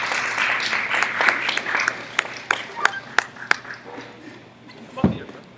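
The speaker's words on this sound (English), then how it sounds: "Let's welcome Brother Charles to the stage with a warm round of applause" Audience in a sanctuary gathering clapping to welcome a speaker to the stage, a modest spread of claps with a few sharp individual hand claps standing out, fading after several seconds, with murmuring voices underneath.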